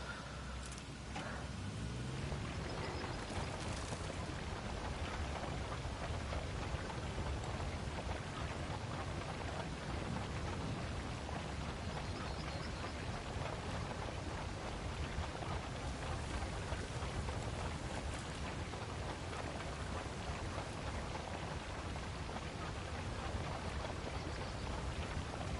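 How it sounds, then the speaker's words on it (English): A heavy rainstorm with thunder pours down steadily and loudly for the whole stretch, a dense unbroken roar of rain with a low rumble early on and no voices. "I leave for 30 seconds and a rainstorm happens."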